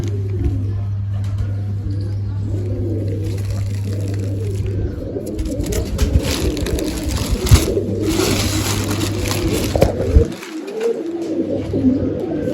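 Breeding pigeons in a loft coo continuously and close by, with soft rolling calls over a constant low hum and faint background rustling.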